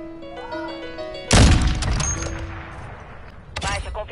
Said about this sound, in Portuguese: Vou derrubar aquele helicóptero lá pra me redimir